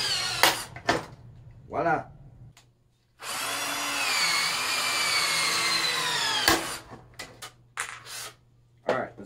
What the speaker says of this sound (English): so, rivet goes in.